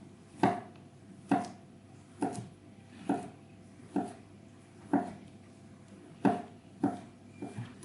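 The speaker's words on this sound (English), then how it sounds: "So Samuel's going to slice our king browns nice and thinly, and then for our other mushrooms," Knife strikes slicing king brown mushrooms thinly on a board: about nine crisp, evenly paced chops, close and clear against a quiet background, with no talk.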